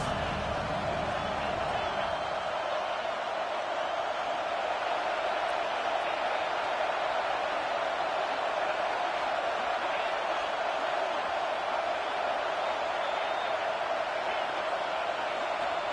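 Steady, dense roar of a football stadium crowd during a Tennessee Vols vs Ole Miss game, a broad continuous wash of noise at even loudness throughout, with no distinct individual voices.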